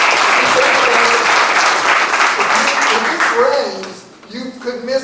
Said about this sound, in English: So let's give a round of applause for that hard work.